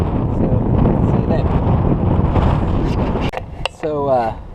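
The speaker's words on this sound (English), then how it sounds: "it's a little windy today." Gusty wind sweeps across a small pond of under an acre, roaring steadily into the microphone for about three seconds before it drops and someone speaks briefly.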